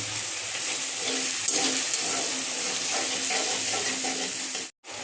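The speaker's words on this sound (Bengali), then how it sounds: "দিয়ে দিচ্ছি অল্প কিছুটা জল।" A little water is poured into a hot pan of onion and garlic paste for fish curry, giving a steady hissing sizzle up close that cuts off abruptly.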